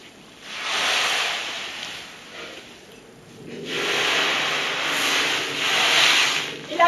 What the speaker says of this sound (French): il a commencé à faire un vent de tempête, avec des vagues très hautes